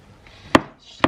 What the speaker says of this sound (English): Slice that up. Have a little bit of mushroom.